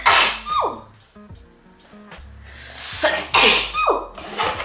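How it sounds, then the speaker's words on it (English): Two big human sneezes burst out close to the microphone, each a sharp sudden blast with a quick intake of breath before, separated by a few seconds of quiet shuffling. "I'm gonna sneeze."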